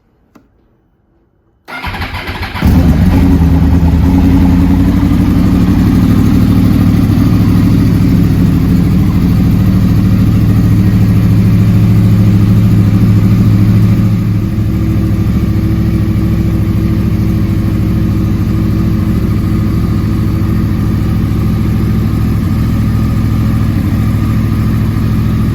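A Yamaha R1 with a crossplane engine cold-starts in a chilly shop after sitting for two days, firing up abruptly and settling into a loud, steady, slightly uneven idle that runs on alone.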